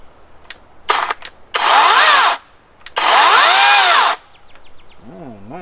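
A Skil 40V battery-powered chainsaw, close by, revs in two separate sustained bursts with a rising electric whine and a short pause between them, preceded by a few brief trigger blips.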